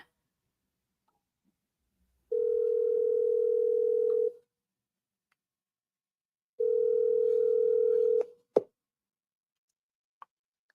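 Ringback tone of an outgoing telephone call to a seller, two long steady buzzing rings separated by a pause, followed by a click and a small knock, with no voices.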